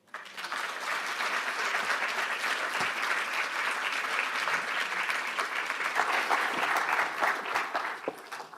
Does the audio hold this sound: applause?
yes